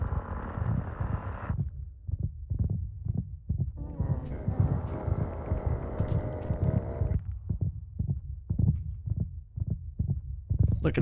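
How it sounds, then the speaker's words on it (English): Heartbeats from the Minecraft game Decked Out throb as steady low thumps in a regular rhythm, with a droning tone joining in midway and a voice talking over part of it. "I do hear 2 heartbeats in here."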